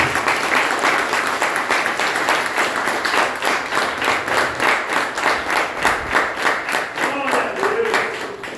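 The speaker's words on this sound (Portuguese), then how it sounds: "Aplaudir ao Rei dos Reis." Sustained applause from a church congregation during a Portuguese-language worship service, a dense steady clapping that fills the room for the whole stretch, with a faint voice surfacing near the end.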